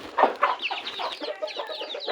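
Chickens cluck in a busy, overlapping series of short calls, close by and fairly loud, with no talking.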